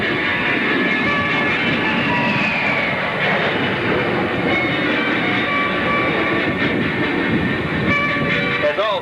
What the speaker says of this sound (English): And now all 6 Thunderbirds are approaching from your right for the Delta Pass Review